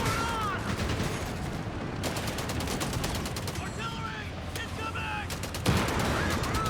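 Machine gun bursts and artillery fire in a Company of Heroes 3 battle, with rapid rattling volleys, scattered booms and a louder impact near the end, all under steady game noise.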